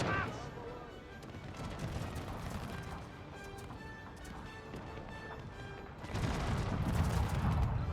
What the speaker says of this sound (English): A little volley here should break this Lombard Arquebusier though